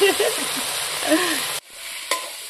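Leg pieces of local goat mutton sizzle in a pan for a village-style curry, with stirring scrapes, before the sizzle cuts off abruptly and a single sharp clink follows.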